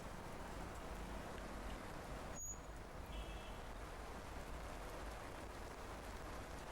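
Steady monsoon rain falls in Rajasthan's Bhilwara area, a dense even hiss sustained throughout with a faint passing vehicle-like tone partway.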